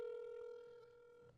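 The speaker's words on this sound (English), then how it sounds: "I'm gonna call him now, George." A telephone ringback tone sounds while a call is placed, one steady electronic tone heard faintly down the line and slowly fading.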